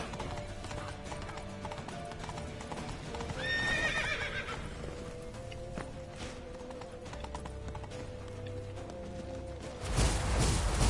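Horse hooves clip-clop at a steady gallop in The Witcher 3, with a loud neighing whinny around four seconds and a burst of louder action near the end, over game background sound.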